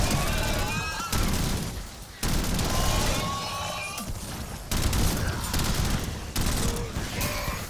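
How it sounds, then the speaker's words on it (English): Rapid bursts of ray gun fire in Black Ops 7 zombies mode, loud and close, with repeated volleys broken by brief pauses and layered game effects. "Let's pull out the ray gun or the Novalon."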